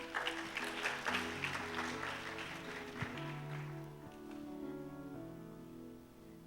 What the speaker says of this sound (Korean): 우리 박수를 한번 맞아볼까요?